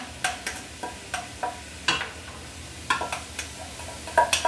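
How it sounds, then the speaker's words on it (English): Onion goes into a hot pot for beer cheese soup, heard as a series of sharp clinks and taps of a utensil on the pot at irregular intervals over a faint sizzle. "So now I'm going to go ahead and put the onion in"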